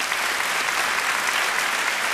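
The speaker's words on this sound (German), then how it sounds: "Kleiner Applaus für unseren Notar." A German TV game show studio audience bursts into continuous, loud applause for the notary, a dense wash of clapping with no speech.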